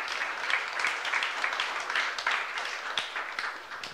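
Congregation applauding in a church service, a steady dense wash of many hands clapping together throughout, moderately loud with no speech over it.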